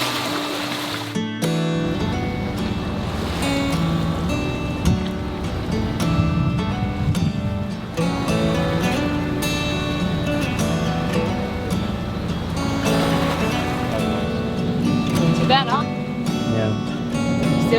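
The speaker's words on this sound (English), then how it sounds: "We're back on the engine." A sailboat's engine drives it across the open Atlantic at about 2,500 revs and only 5 knots, giving a dense, steady roar mixed with rushing water and wind, with someone talking over it.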